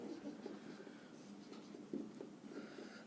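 Pen on paper while writing out a Class 10 geometry proof, a continuous faint scratching and scribbling up close with small taps, alone with no talk.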